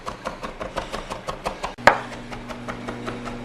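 Garlic being finely minced with a knife on a cutting board: rapid, evenly spaced chopping taps, close and crisp, then a sharper knock and a short pause before the chopping resumes.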